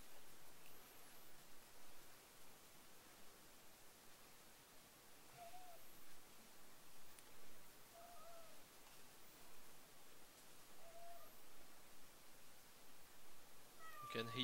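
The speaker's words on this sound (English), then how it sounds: "You can hear my cat." A cat meows a few times, faint and short, against a steady hiss of background noise.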